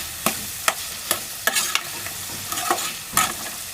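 Chicken frying in a pan over a high flame, with a constant sizzle under a run of scraping stirring strokes, about eight close spatula hits spread across a few seconds.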